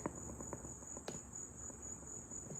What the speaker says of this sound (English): Brad, we got crickets already.